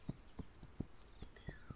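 Hoofbeats of a horse ridden at a steady pace in the game This Land Is My Land, soft evenly spaced thuds repeating about every quarter second, faint in the mix.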